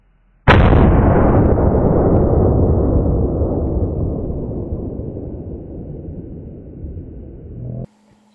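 A long-range rifle gunshot, one sharp loud blast that rolls into a long rumbling echo and fades slowly for several seconds, with no voices.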